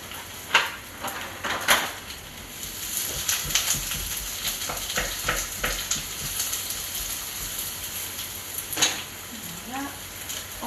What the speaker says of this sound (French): notre poêle est chaude, on peut y mettre les oignons